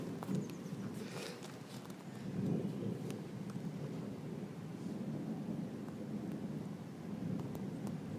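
Faint low rumbling of distant thunder from a strong multicell thunderstorm near Amboise, France rolls on and off beneath steady background noise, with no talking.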